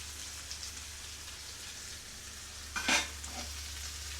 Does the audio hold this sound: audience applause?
no